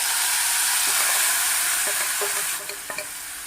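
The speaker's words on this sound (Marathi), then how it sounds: "जिरं तडतडले, जे आपलं तयार मटारचं मिश्रण आहे हे यामध्ये टाकून घ्यायचं" Cumin seeds crackling in hot oil as a prepared pea mixture goes in: a loud, steady sizzle that eases off near the end, with a few soft clinks of a stirring spoon.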